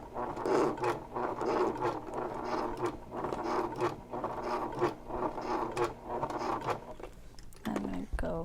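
A sewing machine stitches a vinyl messenger bag with close, fast mechanical clatter and irregular stop-start bursts, under intermittent talk.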